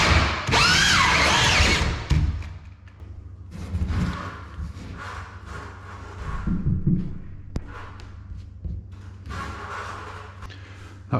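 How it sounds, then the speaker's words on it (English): A power drill bores a 76mm downlight hole through a ceiling, starting with a loud, harsh, grinding burst and then dropping to quieter, intermittent cutting with thumps as the bit works through. "before I go drilling the ceiling out"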